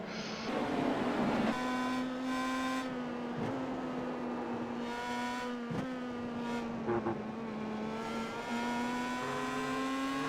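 Race cars on a race track during a televised race: a loud, sustained engine drone with steady high-pitched harmonics, shifting pitch as cars pass and rev, heard close and continuous without talk.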